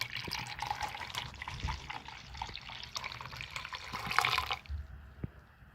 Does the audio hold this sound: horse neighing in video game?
no